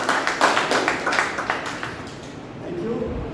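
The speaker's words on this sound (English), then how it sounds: "Let's have a big round of applause for the club and the club." A Toastmasters club audience gives a round of applause, with brisk rhythmic clapping that fades out after about two seconds, leaving quiet room tone.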